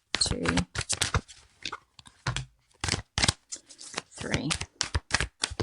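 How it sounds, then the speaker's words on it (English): A deck of oracle cards is shuffled in repeated quick riffling bursts separated by short pauses, fairly close and moderately soft. "3 more shuffles."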